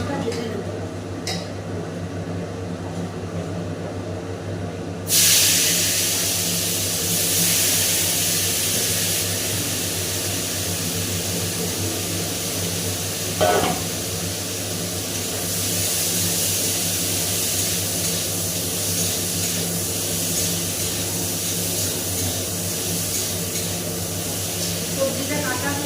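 Fish frying in hot oil in a home kitchen: after about five seconds of quieter room sound, a steady, bright sizzling hiss starts abruptly and carries on evenly, with a brief clatter midway.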